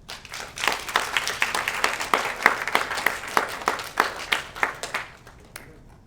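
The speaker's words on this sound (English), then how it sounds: "So, give me a round of applause." Applause fills a dinner hall at a summer camp award ceremony, with many hands clapping steadily for about six seconds. Sharp individual claps stand out above the broad wash of sound, which fades toward the end.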